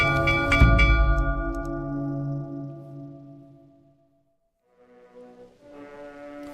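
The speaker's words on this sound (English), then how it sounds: "Ship's bell hangs by the bridge. Sound of when someone goes overboard. Strike it." A ship's bell in a video game rings out loud and deep, sustaining a long ringing decay before a second, quieter struck tone sounds near the end.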